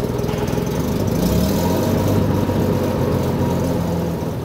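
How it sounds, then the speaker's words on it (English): A WWII tank engine runs steadily after carburettor and plug lead repairs, a loud, close, continuous low rumble with an even mechanical drone and no talk. "the combination of those two fixes has made this engine run much better"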